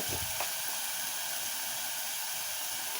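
A masala of spices frying in a pan gives off a steady, even sizzle and hiss close by, with a brief stirring scrape near the start and no talking.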